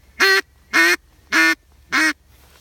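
Four evenly spaced, loud quacking notes blown on a duck call, each note sharply cut off, with short silences between them and no voices.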